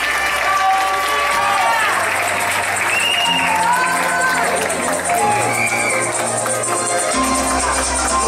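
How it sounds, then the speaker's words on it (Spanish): Loud, sustained applause from an audience at a teen beauty pageant gala in Venezuela, filling the whole stretch with clapping and crowd cheering while music plays underneath. "La recibimos con un fuerte aplauso."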